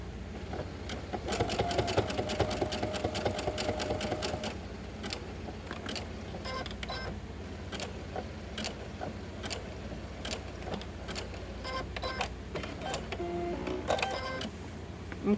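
Sewing machine stitching a hat: steady mechanical whirring and rapid needle clatter in bursts with short pauses, fairly quiet and close, with no voices.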